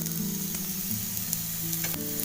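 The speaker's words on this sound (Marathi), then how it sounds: "ही बघा भेंडी फ्राय आपली" Okra (bhindi) frying in a pan with a dense, even sizzle that holds close and steady throughout, along with faint stirring scrapes and no talking.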